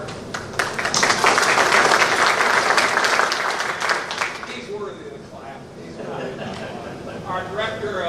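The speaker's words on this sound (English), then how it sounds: "He's worthy of the clap." Audience at a school administrators' association installation ceremony applauding a staff introduction, a loud swell of clapping lasting several seconds before fading as a speaker resumes talking.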